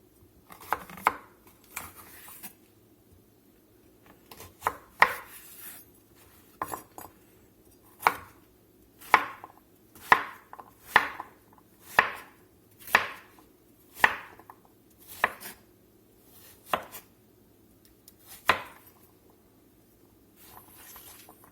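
A knife chops cleaned squash into bite-sized pieces on a board, with about a dozen crisp, close cuts in a steady, slightly uneven rhythm and short pauses between runs, against a quiet kitchen background.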